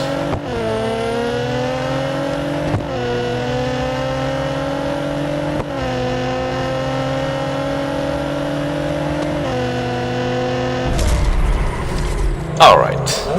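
A Nissan Skyline GT-R V-Spec R34 in a Real Racing 3 drag race, its engine revving up through several gear shifts in a loud, sustained whine that ends in a burst of noise and tire squeal.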